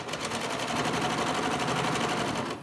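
A serger overlocker stitching a knit neckband onto a garment, running as a steady continuous whir with rapid needle chatter, close and even throughout with no talk.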